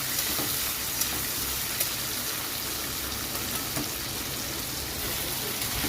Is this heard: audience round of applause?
no